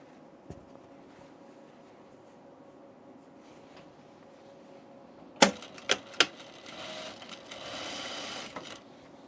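A sewing machine stitches the underarm seam of a tunic, starting after a quiet stretch with a few sharp clicks and then running in a steady close whir to the end.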